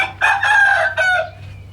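A rooster crows loud and close at a home in rural Cambodia, one full cock-a-doodle-doo call with a strained, wavering ending, alone with no talk.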